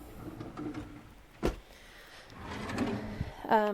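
Drawer in a craft room sliding open with a sharp knock near the middle and a rattling slide at the end, close and moderately loud over faint room noise.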